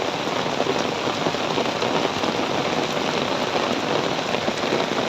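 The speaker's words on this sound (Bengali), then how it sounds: "এই দেখেন প্রচুর বৃষ্টি, কিন্তু অনেক জোরে বৃষ্টি হইতেছে" Heavy rain pours down in a dense, unbroken roar, drumming steadily on surfaces with no voices.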